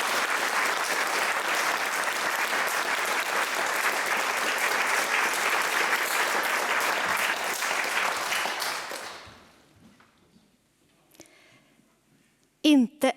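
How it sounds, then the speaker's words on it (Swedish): An audience at a literature evening gives warm, sustained applause, dense and even for several seconds before fading out into quiet, followed by a few brief sounds. "så en varm applåd till Stig Sem-Sandberg, Ellen Mattsson och till Sofia Rönnegård"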